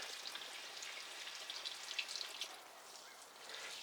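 Water from a hose or watering can patters and splashes steadily onto garden plants and soil in an allotment plot, a soft continuous hiss with small irregular spatters, fairly faint and without talk.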